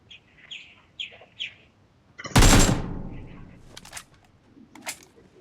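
A sniper shot in the BGMI battle royale video game, one loud sharp crack with a decaying tail, set among light chirping game ambience and a few fainter later hits.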